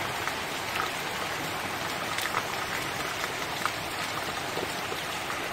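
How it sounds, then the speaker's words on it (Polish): Gentle, steady rain falling outdoors in a garden with trees barely swaying, a soft continuous patter of drops on surfaces, close and even throughout with no talk. "Bardzo ładnie pada."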